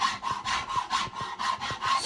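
An Auriou rasp stroking back and forth across wood, about nine even rough scraping passes in steady rhythm, close and clear with no talking.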